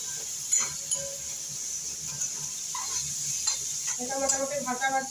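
Ginger and chickpea mixture fried and stirred in a pan without ghee, with scraping stirs and light clinks of a utensil against the pan over a soft sizzle, plus a few rhythmic taps near the end.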